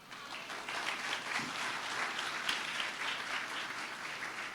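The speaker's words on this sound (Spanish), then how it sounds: "Eso merece un aplauso." A conference crowd claps in sustained applause, dense and fairly even, heard from some distance in a large room with no talk over it.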